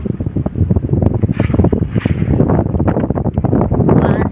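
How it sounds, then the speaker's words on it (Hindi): Cold wind sweeps through an oak forest in the hills of Pauri, a steady loud rushing with heavy gusting buffets against the microphone that stay continuous throughout. "बांझ के जंगलों की वजह से ही इतनी ठंडी ठंडी हवा चल रही है"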